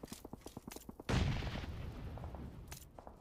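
Grenade blasts and gunfire ring out in PUBG Mobile at a global championship match: rapid shots crackle, then a heavy boom rolls into a sustained rumble with more scattered shots.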